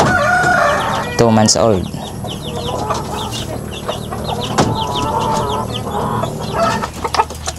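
Two-month-old Basilan chicken stags cluck and call loudly and close together at feeding time, with a crow breaking through early on, while someone talks over the flock.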